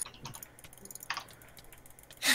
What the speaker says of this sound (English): So I gotta practice my jitter clicking now.